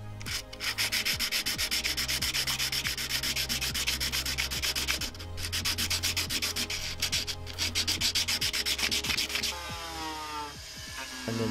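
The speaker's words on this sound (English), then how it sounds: "We now sand down all of the edges." Continuous close rubbing and sanding as the edges of a gold tension ring are worked down, a steady abrasive rasp with two brief pauses, loud and alone.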